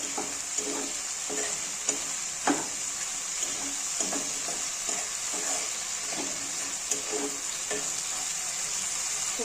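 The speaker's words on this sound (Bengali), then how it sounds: "একটু ভালো করে কষিয়ে নেব। তো কষা হয়ে গেলে তেলটা পড়ে চলে আসবে।" Cabbage curry masala fries in oil in a pan with a continuous soft sizzle, broken by intermittent scraping stir strokes, moderately quiet and close without any voices.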